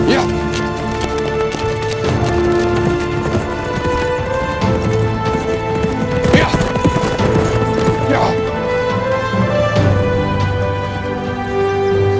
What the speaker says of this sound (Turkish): Atlar!